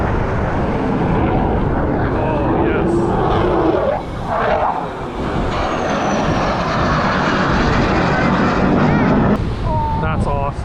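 Several airplanes fly in formation over a beach at an Ocean City, Maryland air show, a broad continuous roar of engines with wind buffeting the microphone and a voice briefly heard.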